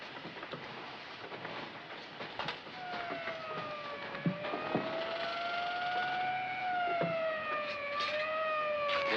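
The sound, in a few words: ambulance siren approaching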